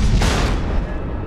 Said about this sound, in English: There it is. The missiles.